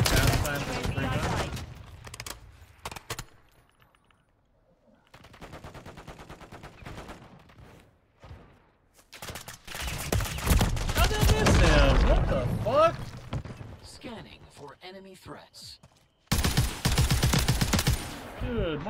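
Gunfire bursts in Call of Duty: Modern Warfare III, loud automatic volleys in several clusters separated by quieter gaps, with voices talking over parts of the action.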